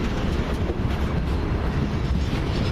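Freight locomotive 66156 pulling a train slowly away at about 15 mph on a run from Wakefield Europort toward Southampton, a steady low rumbling drone with broadband rail noise and some wind buffeting, continuous and fairly close, with no voices.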